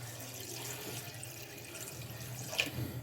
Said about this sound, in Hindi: अब हम इसमें पानी डालेंगे, तकरीबन 2 गिलास पानी के।